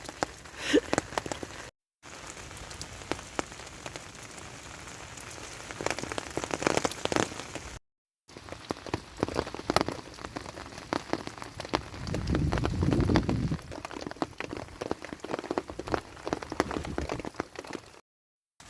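Steady rain patters on surfaces during a spring backpacking trip, a dense, continuous hiss of drops with brief gaps where it cuts out. A soft low rumble swells midway, and no one speaks.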